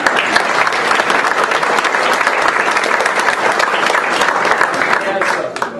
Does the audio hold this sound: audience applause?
yes